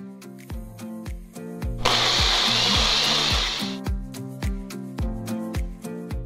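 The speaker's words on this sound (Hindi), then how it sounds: "मिक्सी में इसकी पहले मैंगो प्यूरी बना देना" A mixer grinder pureeing mango whirs loudly for about two seconds, a steady harsh blending roar, over a rhythmic music track that continues before and after.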